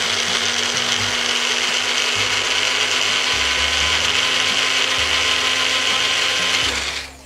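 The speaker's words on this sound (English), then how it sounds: "I'm just wanting to get these seeds all blended up." A blender grinds sesame seeds with oil for hummus, a loud continuous motor whir with shifting pitch and grinding texture lasting several seconds before cutting off at the end.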